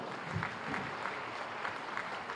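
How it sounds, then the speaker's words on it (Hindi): Audience applause at the Uttar Pradesh Diwas 2021 ceremony in Lucknow, honouring athletes: a steady, dense wash of clapping from a sizeable crowd, held at an even level throughout without any clear speech over it. "मोबाइल को विश्राम दें, हाथों को बाहर निकालें और जोरदार तालियां बजाएं"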